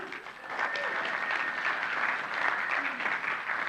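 A church congregation applauds, steady dense clapping close and loud that holds throughout, with faint voices mixed in.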